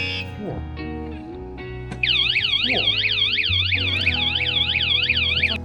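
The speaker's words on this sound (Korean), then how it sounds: "경보기" A loud electronic motorcycle alarm on a Honda Super Cub wails in a rapid rising-and-falling siren pattern, starting abruptly after a couple of seconds of low engine idle and continuing steadily.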